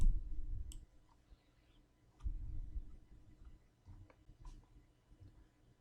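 A computer mouse button is clicked a few times during Windows 10 installation from a USB flash drive, giving sharp, close clicks that stand out against a quiet background.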